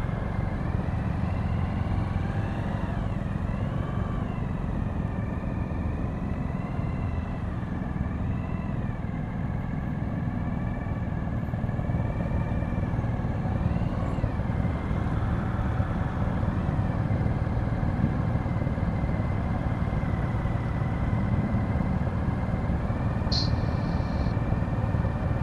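Motorcycles on a Ride To The Wall group ride through Matlock, a continuous low engine rumble of bikes idling and rolling nearby, with occasional revs rising over the steady drone and no talk.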